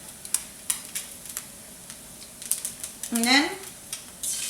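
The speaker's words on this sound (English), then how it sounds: "just so mix everything together." Chilaquiles being stirred and mixed in a hot sizzling pan, with soft scraping and frying crackle that swells near the end, under a few brief spoken words.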